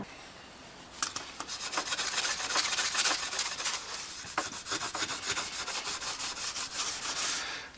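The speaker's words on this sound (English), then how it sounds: "And a little Scotch-Brite will clean it right up." A water pump plate for a 408 engine is scrubbed with a Scotch-Brite pad, a close, rapid back-and-forth rasping that runs steadily for several seconds after a brief quiet start.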